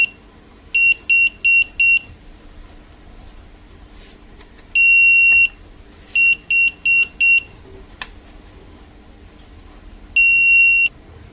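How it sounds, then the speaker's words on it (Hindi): A circuit board beeps after its power supply is switched on during repair of a faulty LM317 voltage circuit, sounding in bursts of rapid short electronic beeps alternating with longer single tones, moderately loud over faint hum. "हाँ, ये बीप आने लगी थी।"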